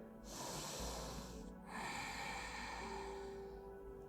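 A deep nasal inhale during an evening Chandra Namaskar relaxation yoga session, heard as two long, close, airy breaths with a short pause between them and a faint steady tone underneath.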